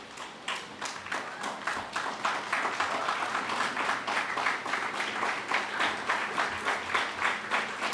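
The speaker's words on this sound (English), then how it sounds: "invite all these beautifully dressed up graduates to stand and give a round of applause" Graduates stand and applaud their teachers at a school award ceremony. Many hands clap in a steady, rhythmic wash that holds evenly across the whole stretch, somewhat distant and filling the hall.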